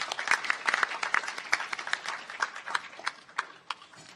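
Steady applause from an audience at a public idea audition event in Korea, many hands clapping at once, fairly close and even in loudness throughout.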